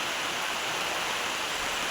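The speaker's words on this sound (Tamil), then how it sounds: "மழைக்கு பாருங்கள், நல்ல மழை." Heavy rain falling steadily in a village, a dense, even hiss that fills the whole moment without a break, close and loud, with no voices over it.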